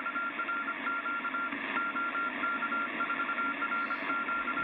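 A Yaesu FRG-7700 shortwave receiver carries a steady Morse code tone that keeps on and off over a band of static hiss and noise, with no one speaking.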